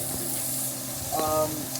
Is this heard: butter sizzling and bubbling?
yes